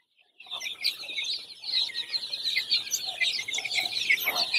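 Newly released early bird chicken chicks make a steady stream of high, overlapping peeps and chirps at close range, continuous after a brief quiet start, with no talking.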